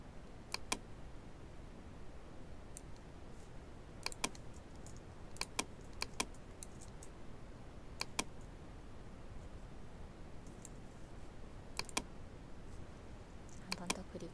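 Computer keyboard keys clicked in short scattered bursts, crisp taps with pauses between, over a quiet room hiss while working through a Photoshop exam exercise.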